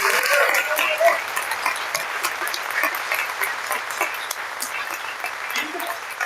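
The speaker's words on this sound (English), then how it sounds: "could we get a big round of applause for all of you?" Audience applause at a political event, a town hall on constitutional issues, with steady clapping at moderate level for several seconds and a few voices mixed in.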